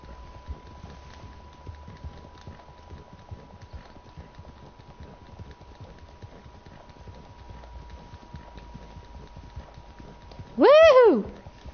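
A Mustang horse in the Red Dead Online video game gallops with steady, rhythmic clip-clop hoofbeats, moderately loud, ending in a short, loud whinny near the finish.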